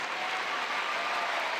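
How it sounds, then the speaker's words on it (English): A crowd on Iranian television applauds: a dense, steady wash of clapping at close range with no talk over it. "Crowd goes wild."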